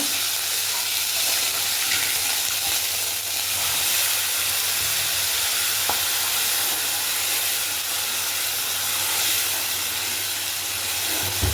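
Ginger paste frying in a pan for chapati curry, a steady broadband sizzle and hiss running evenly throughout at moderate level, with no speech over it.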